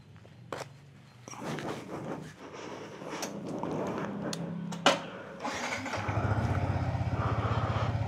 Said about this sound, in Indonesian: Kita panasin motor sih.